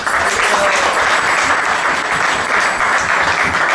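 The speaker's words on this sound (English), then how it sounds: "We want to give you a big round of applause." Steady, loud audience applause from a large crowd, dense and continuous clapping throughout without pause.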